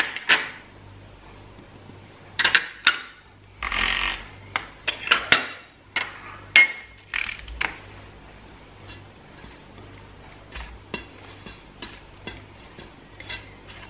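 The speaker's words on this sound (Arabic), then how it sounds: "غادي نخلطوا النواشف" Dry ingredients get stirred in a bowl, giving irregular scraping and clinking strokes of utensil against bowl in uneven bursts, separated by brief quiet gaps over a low steady background hum.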